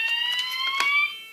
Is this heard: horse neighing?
no